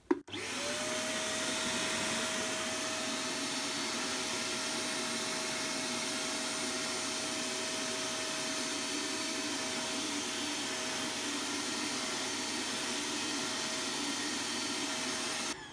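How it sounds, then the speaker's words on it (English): A wet and dry vacuum cleaner runs steadily and loudly at close range for about fifteen seconds, cleaning dirty, flood-soaked carpets, with a constant motor whine and no talking. "I'm going to see how the vacuum cleaner does."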